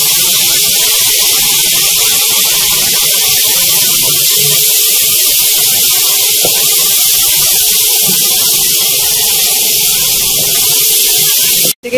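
Spice masala and tomatoes fry in a pan with a loud, steady hiss that runs unbroken for the whole stretch and cuts off abruptly at the end.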